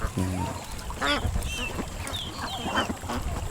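White ducks on a duck farm quacking and honking in a loose, overlapping chorus, fairly close, with people talking in the background throughout.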